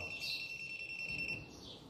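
A thin, steady high-pitched electronic beep from a combined multimeter, signal generator and oscilloscope on continuity test holds for over a second, faint and close, then stops, with quiet background noise.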